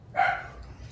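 A single short dog bark or yip, fairly faint, sounds once near the start over a quiet background, with no talking.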